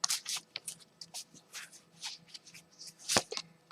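Tarot cards are shuffled and pulled in a close, quiet series of crisp riffles, flicks and slaps, irregular and alone without talk.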